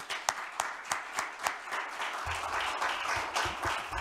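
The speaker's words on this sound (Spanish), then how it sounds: "Pues les pido un aplauso a todos," An audience at an aquaculture conference claps after a talk, starting with a few distinct, spaced claps that swell into fuller, steady applause from a modest crowd.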